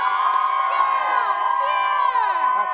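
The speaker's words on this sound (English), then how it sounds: "Our audience will cheer the loudest for who they think won." A studio audience cheers and whoops loudly for a chosen winner, a sustained crowd roar with high excited voices throughout.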